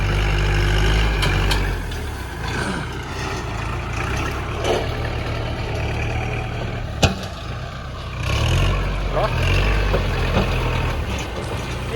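A steady, low diesel tractor engine rumbles at idle throughout, loud and close, with a few faint clanks and knocks over the continuous drone.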